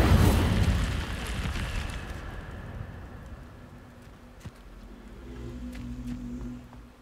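An Incendio fire spell cast in Hogwarts Legacy erupts in a loud, rumbling whoosh of flame that fades gradually over several seconds, leaving a low crackling hum.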